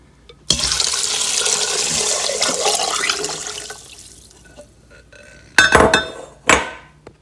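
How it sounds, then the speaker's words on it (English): Water pours steadily into a soup pot holding onions, ham and potatoes, a loud rushing stream lasting several seconds before tapering off, followed by a couple of sharp clinks of a pot or lid. "And then add 8 cups of water."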